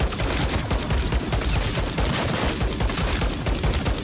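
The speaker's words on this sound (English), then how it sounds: "By the way, this is a marksman rifle." A marksman rifle fires in Call of Duty: Modern Warfare 3, a loud, dense stream of rapid shots and impacts that keeps up without pause for the whole stretch.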